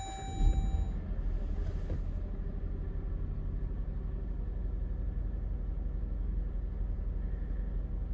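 A 2016 Jeep Grand Cherokee engine, just back together after a spark plug replacement with intake manifold removal, cranks with a brief burst and settles into a steady low idle rumble, with a chime fading at the start.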